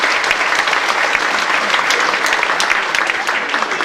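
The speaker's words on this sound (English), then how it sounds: "Come on, give her a round of applause." An audience gives a loud, sustained round of applause for a woman about to sing with a group, dense steady clapping filling the whole stretch.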